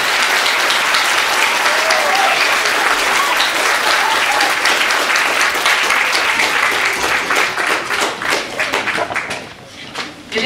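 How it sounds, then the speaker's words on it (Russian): Loud, sustained audience applause fills a theater hall, dense clapping that holds steady and then begins to thin out toward the end. "еще похлопаем, правда?"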